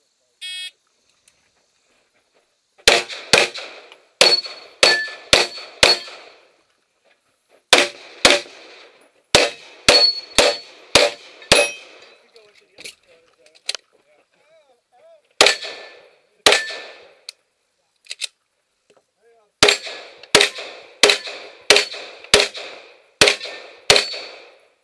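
Sharp gunshots ring out in quick strings of five or six at a practical shooting match, loud and close with pauses between volleys, and a range officer's commands are heard between strings.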